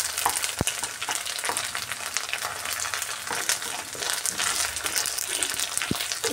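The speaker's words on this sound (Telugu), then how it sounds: "అలాగే పచ్చిమిర్చి కూడా వేసి ఫ్రై చేసుకున్నాము" Onion and green chillies frying in hot oil for an egg semiya dish, a steady dense sizzle with occasional stirring scrapes and a couple of sharp clinks, close and continuous with no talk.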